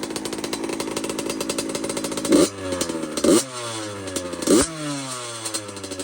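A Yamaha YZ85 two-stroke dirt bike engine with an FMF pipe and shorty silencer runs steadily at a buzzy idle after a top end rebuild, with three sharp throttle blips spaced about a second apart.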